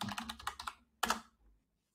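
A computer keyboard clatters close by as a command is typed: a quick run of about eight keystrokes, a brief pause, then a final cluster of taps like an Enter press, with no talk.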